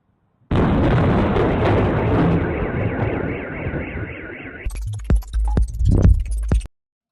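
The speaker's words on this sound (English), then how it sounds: "just right when you hear the explosion, you can see like a flash right here, right on this building" A drone strike on an oil refinery in Tuapse, Russia, sets off a sudden loud explosion. A long roaring rumble follows, with a warbling alarm-like tone over it, then several sharp pops and bangs before the clip cuts off.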